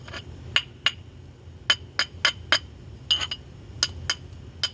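Sharp, bright clinks of a tool knapping the edge of a glass bottle bottom, about a dozen irregular taps, some in quick pairs, close and crisp against quiet.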